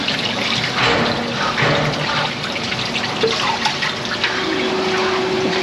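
Steady rushing and splashing water as the water is changed while cleaning a grinding machine, a continuous close pour with trickles and drips throughout.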